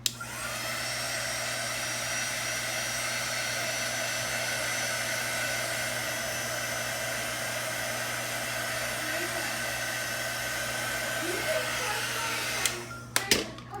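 Hair dryer blowing steadily on an upcycled Goodwill wicker basket, a continuous close whirring hum for many seconds before it clicks off, followed by a few handling knocks.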